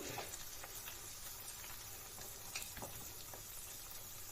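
Marinated chicken deep-frying in hot oil for Thai fried chicken, a dense crackling hiss with occasional pops, close up and continuous.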